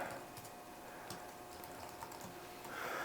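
A password being typed on a computer keyboard: soft, quick, irregular key clicks, faint and close, with no talking.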